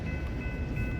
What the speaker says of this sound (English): So right now this train is actually going west